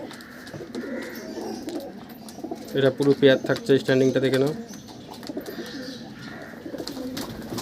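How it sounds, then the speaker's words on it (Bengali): Close Pakistani teddy pigeons in a loft give a burst of deep, pulsing coos in the middle, with someone talking before and after. "টেডি পায়রা এগুলো"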